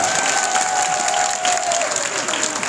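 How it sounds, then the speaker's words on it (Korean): Audience applause at a lecture event, loud, continuous clapping from a room full of people, with a thin sustained tone running underneath. "사모님께 박수를 부탁드리겠습니다."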